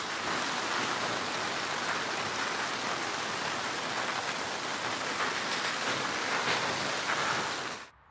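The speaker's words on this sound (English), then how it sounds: "What a hailstorm." Hail pounds a plastic polytunnel during a storm, a dense, loud, unbroken hiss of impacts that holds steady before cutting off abruptly at the end.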